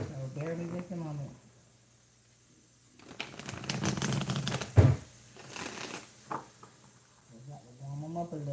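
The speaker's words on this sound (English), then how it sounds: "I shuffle in silence because I like to meditate while I'm shuffling" Tarot cards being shuffled by hand in a quiet room, a soft papery riffling and sliding that builds in the middle and then fades, with a person talking before and after.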